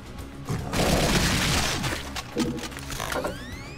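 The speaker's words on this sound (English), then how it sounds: "Plasma machine gun. I love it." Rapid metallic clattering bursts and whirring mechanical fire from a plasma machine gun in Brutal Doom, loud and close, with rising electronic sweeps near the end.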